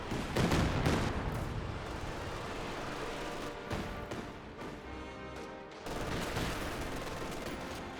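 Artillery barrage in Company of Heroes 2 pounds on a World War II battlefield, dense rolling blasts and crackling gunfire that surge loudly, dip briefly, then resume with heavy thuds.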